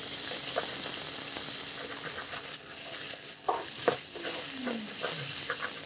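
Ginger, garlic and chopped red chili fry in a pan with a steady, soft sizzle, broken by occasional scrapes and stirring clinks of a utensil.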